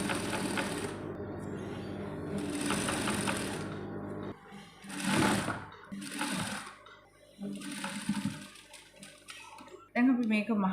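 A sewing machine stitches a shirt collar, running in bursts with pauses between, a close, steady mechanical hum that starts and stops several times.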